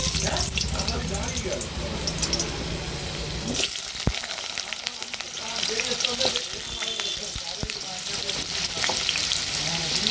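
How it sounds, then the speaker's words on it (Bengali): Diced potatoes dropped into hot oil in a wok, sizzling and spattering close by with stirring clatter and a sharp change partway through as the frying noise shifts. "তেল গরম করে নিয়েছি, কড়াই ডুমো ডুমো করে কেটে নেওয়া আলুগুলো তেলের ভিতরে ছেড়ে দেবো।"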